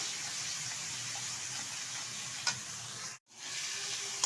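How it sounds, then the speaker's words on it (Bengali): A cumin, ginger and chili paste sautés with potatoes and long beans in a pan, giving a steady quiet sizzle with a couple of utensil clicks and a brief dropout in the middle. "এবার ভালোভাবে কষিয়ে নেবো এক থেকে দেড় মিনিট মতো"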